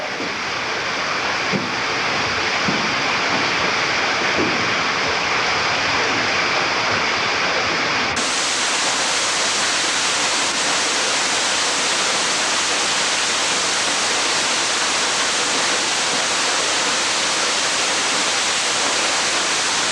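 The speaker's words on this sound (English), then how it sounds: "Oh, nice waterfall. Welcome to the waterfall room." A waterfall roars in a steady, even rush, loud and continuous from start to finish.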